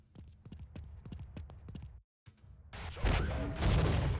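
A grenade launcher firing in the video game Half-Life: quick hard footsteps, a short silent gap, then a loud, sustained broadband roar of firing and blast that fills the final second and a half.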